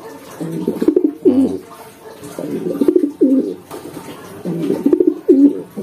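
A breeding pair of blue bar pigeons coos close by in repeated throaty, rolling bursts, each call followed by a short pause, with no voices.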